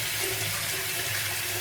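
Cold tap water runs steadily into a kitchen sink to rinse raw chicken hearts, a continuous close hiss and splash with no talking.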